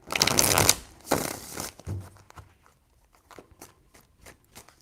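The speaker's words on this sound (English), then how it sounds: "Three shuffles." Tarot cards are shuffled in two crisp riffling bursts near the start, followed by softer taps and card handling.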